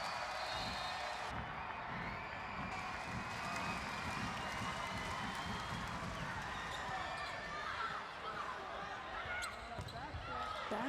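A packed arena crowd at a 2014 women's collegiate volleyball match between Penn State and Stanford roars at set point, a continuous loud wash of cheering with bouncing and shoes squeaking, while a commentator talks over it.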